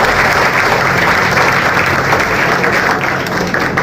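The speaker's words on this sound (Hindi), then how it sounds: "एक बार जोरदार ताली राहुल गांधी जी की उस मेहनत के लिए बचनी चाहिए" Loud, sustained applause from a large crowd at a Delhi Congress party minority department executive meeting, dense clapping filling the room at an even level throughout.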